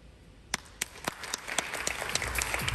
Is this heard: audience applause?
yes